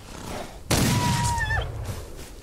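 A single loud gunshot cracks out suddenly in the Western video game Outlaws of the Old West, followed by a sustained ringing tail and a brief whistling tone that bends downward before fading.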